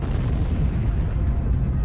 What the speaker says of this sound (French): Cette fantastique explosion stellaire lance à travers l'univers une foule d'indices balistiques de la supernova